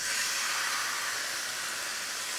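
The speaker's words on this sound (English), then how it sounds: "we're going to add about 2 tablespoons of oil to it, and then we're going to start the sear process" Beef sears in oil in a skillet for barbacoa, producing a brief, steady, even hiss of sizzling at moderate level with no voices.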